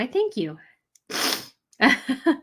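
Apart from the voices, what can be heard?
sneeze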